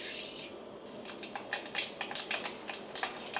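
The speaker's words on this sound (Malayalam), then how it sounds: "ഇനി ഇതിലേക്ക് നമുക്ക് കടുക് ഇട്ടിട്ട് പൊട്ടിക്കാം." Mustard seeds splutter in hot oil for a carrot pickle, giving faint, irregular crackles and pops that grow busier toward the end over a soft hiss.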